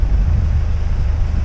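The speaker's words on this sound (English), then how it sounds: "It's turned a bit grey, it's turned a bit windy." Loud, steady wind buffeting the microphone, a constant low rumble with no pauses.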